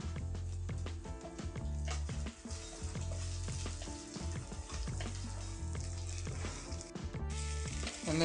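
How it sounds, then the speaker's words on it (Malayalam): Onions and green chilies frying in hot coconut oil for a Kerala-style fish curry, a loud, dense, continuous sizzle and crackle filling the whole stretch without pause. "വെളിച്ചെണ്ണ ചൂടായതിന് ശേഷം അതിലേക്ക് നമ്മൾ ഉള്ളിയും പച്ചമുളകും"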